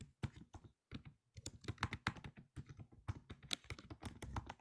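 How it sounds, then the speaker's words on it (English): Rapid typing on a computer keyboard picked up by a meeting participant's open microphone, a steady patter of quiet clicks with brief pauses and no talk. "I think she was typing and it picked her up."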